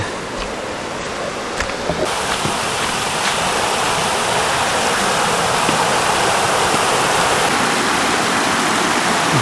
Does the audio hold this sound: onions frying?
no